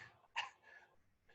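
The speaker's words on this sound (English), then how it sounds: "The dog." A dog gives a short, faint yelp or whine, one brief cry followed by softer whimpering sounds in a quiet room.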